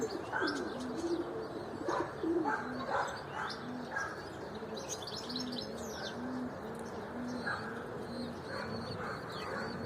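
A tailless turtle dove coos in soft repeated phrases close by, mixed with chirps and calls from other birds around it.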